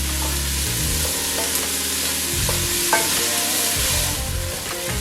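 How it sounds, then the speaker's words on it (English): Softened vegetables for a chicken beer chili sizzle steadily in a hot pan while being stirred, a close, continuous frying hiss with scraping stir sounds and no talk. "I hope you can hear me over the sizzle of these vegetables"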